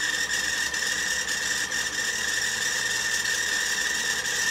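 A sewing machine being run at full throttle gives a steady, loud, high-pitched mechanical whine with a constant motor drone and no pauses.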